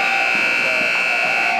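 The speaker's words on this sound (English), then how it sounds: "Here the buzzer, it had nothing to do with us." A period-end buzzer sounds at a demolition derby game, one loud, steady, harsh electronic tone holding without a break.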